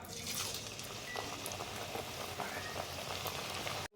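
Hand-flattened rounds of dough frying in hot oil for a Ramadan recipe, a dense, even bubbling sizzle close by that cuts off abruptly near the end, with no voices.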